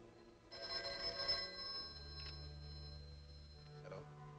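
An old telephone bell rings in short, fairly quiet bursts, with a low hum between the rings and no speech.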